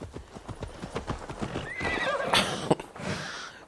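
A horse in the video game Assassin's Creed Valhalla: steady clip-clop of hooves, then a loud rising whinny near the middle, followed by snorting and more hoofbeats under faint background ambience.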